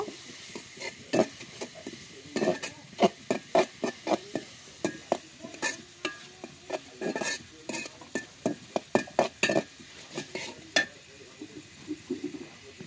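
Onions being stirred and sautéed with prawns in a pan over a wood fire, with rhythmic, close metal scraping and clinking strokes over a soft sizzle.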